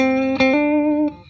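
A Danelectro guitar plays a clean tone through a Fender Frontman 25R amp, a sustained single note ringing with bright harmonics, briefly retriggered by quick pick attacks before fading out; close, loud, and unaccompanied.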